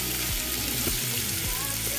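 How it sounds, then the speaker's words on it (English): Loud, continuous sizzling of tomato paste frying in a hot pot, with a few faint clinks and stirring noises throughout. "You can fry your paste as it is without loosening it up first."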